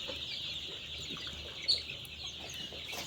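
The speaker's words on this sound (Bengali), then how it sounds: "মুরগি তো বড় হয়ে গেছে দেখেন মুরগিগুলো দেখেন" Egyptian Fayoumi chickens cluck faintly in a poultry shed, soft scattered calls over a steady airy background hum, with one brief louder sound near the middle.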